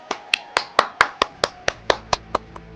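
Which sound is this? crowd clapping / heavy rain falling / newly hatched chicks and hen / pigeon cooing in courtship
crowd clapping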